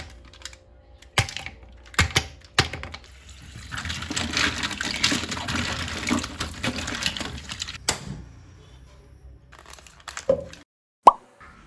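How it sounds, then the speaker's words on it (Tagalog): Mussels are washed by hand in water, with a long stretch of sloshing, clattering shells in the middle and a few sharp knocks and plops before and after, close and fairly loud with no talking. "At huhugasan ko na rin itong aking tahong."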